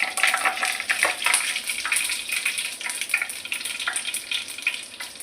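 Mustard seeds and fennel seeds sizzle and crackle steadily in hot cooking oil, a dense hiss scattered with small pops running the whole time with no talking.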